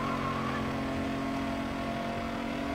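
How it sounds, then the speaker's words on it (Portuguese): Engine of a tuned car in Need for Speed Underground, a steady mid-pitched hum holding a constant tone throughout, moderately quiet with no talk. "eu prefiro o som dos carros daqui"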